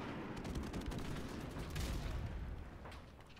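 Gunfire rattles in a first-person shooter game, a dense string of sharp shots and booms, loud and busy throughout, tapering slightly at the end.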